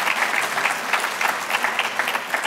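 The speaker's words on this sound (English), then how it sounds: "I just want to give them a round of applause for being here and helping us out." Conference audience applauds the event volunteers, a dense patter of clapping that pulses slightly in waves and stays moderately loud for a couple of seconds.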